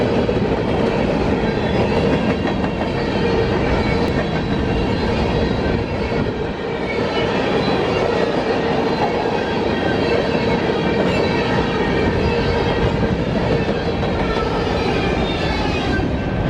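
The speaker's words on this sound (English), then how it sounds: "This train had a couple hoppers worth showing off." Freight train of grain hopper cars rolls past close by in Emporia, Kansas, a loud continuous rumble with rhythmic wheel clatter and faint squeals, steady throughout with no voices.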